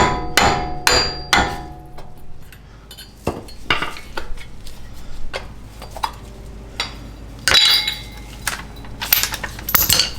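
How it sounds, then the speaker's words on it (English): Sharp metallic hammer blows ring out in quick bursts as a Toyota CV axle cover is hammered off, then irregular clanks and taps of metal follow, with ringing tones after some strikes. "We're going to start off by hammering this cover off."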